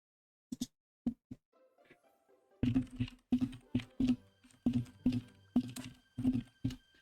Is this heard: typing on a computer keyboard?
yes